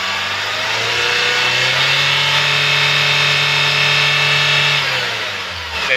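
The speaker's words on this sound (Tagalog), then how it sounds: "andar na ating engine. So try natin yung RPM guys" A Kia K2500 engine is revved and held steady at around 4,000 rpm, giving a loud, continuous droning hum with stable harmonics that eases off slightly at the end.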